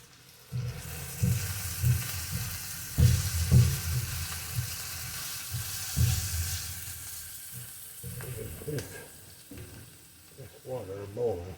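A pot of salted water rolls at a boil on a stovetop for linguine, a steady bubbling hiss with uneven soft thumps and clatters of a busy kitchen.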